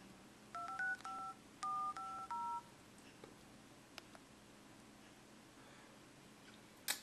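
Keypad tones from the new dialer on an HTC Magic phone, about seven short clear dialing beeps in quick succession, faint and close, followed by quiet with a few small clicks.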